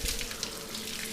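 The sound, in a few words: water running from a tap during washing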